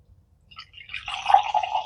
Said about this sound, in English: So you pour the water in here